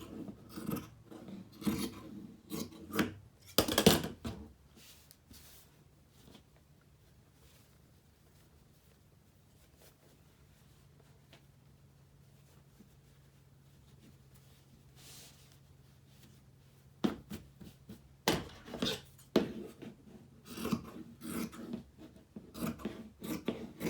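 Scissors cut across dress fabric close up in a quiet room, giving bursts of crisp snipping and rasping with a long lull between them and faint background hum.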